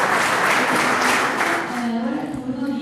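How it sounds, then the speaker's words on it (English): Applause from an audience at a talk on Italian architecture and tactile photography, a dense steady wash of clapping that fades slightly toward the end. "Applause."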